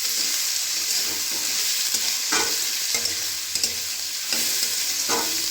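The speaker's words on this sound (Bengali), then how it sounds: "এবার আমার কেটে রাখা সবজিগুলো সমস্ত দিয়ে দিলাম, দিয়ে ভালো করে এটাকে নাড়াচাড়া করে নিচ্ছি।" Chopped vegetables for fried rice sizzle loudly in a pan while a spatula stirs them in regular scraping strokes about once a second, close and without any talking.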